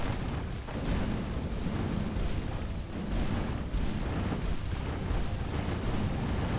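Rumbling grenade explosions in the video game Skul the Hero Slayer, a dense, loud, continuous barrage of booms with no gaps.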